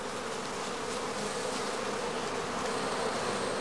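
Honey bees swarm and hum in a steady, dense drone around a heather skep hive near Dorfmark, the buzzing close and continuous with no voices.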